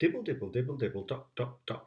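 A voice imitates rain with rapid repeated pattering syllables, then a few slower, separate drops.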